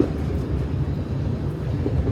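Steady low rumble of the Walt Disney World Railroad steam train rolling along rails, constant and close, with no voices.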